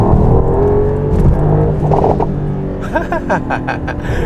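Mercedes-AMG GT engine exhaust in sport plus mode, a loud aggressive rumble with revving surges and sharp crackling pops toward the end, close and unaccompanied by speech.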